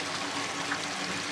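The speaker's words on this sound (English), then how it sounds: "where the water's flowing through right down there," Water flowing steadily between hefty boulders deep inside a mine, a continuous broadband rushing and trickling that holds at an even level for the whole moment, with no voices.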